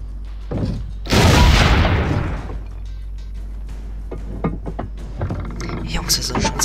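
A loud, booming cannon blast in Assassin's Creed Brotherhood with a burst of crackling noise, followed by scattered thumps and clatter under ongoing game sounds.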